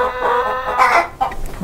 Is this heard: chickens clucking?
yes